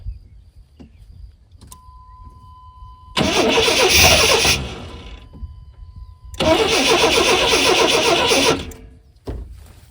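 Engine of a mini squarebody pickup truck cranking and catching twice after fuel is added, two loud bursts of running separated by a quieter lull, with faint handling sounds around them.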